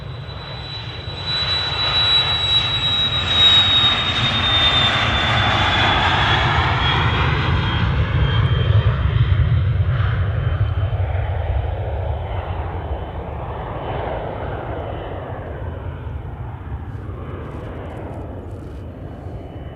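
A jet airliner departs runway 23 Left at Manchester Airport, its engine roar building loud and close with a high whine on top, then sliding lower and fading slowly as it climbs away.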